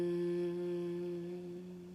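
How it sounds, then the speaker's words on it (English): A closed-mouth Om hum of Brahmari breath, one steady low humming voice with a rich buzzing tone, held alone and fading slightly toward the end. "So Brahmari breath is a closed mouth Om."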